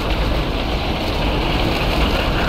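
An electric-propelled surf paddleboard runs at full throttle across the water, giving a loud, continuous rush of water and wind noise with no break and no voices.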